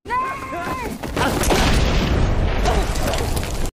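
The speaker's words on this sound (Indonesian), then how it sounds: "dan terjadi ledakan" A loud, deep boom from a grenade explosion in the film Black Crab (2022) erupts after a short tonal sound, followed by a sustained roaring rumble of the blast that fills the rest of the clip.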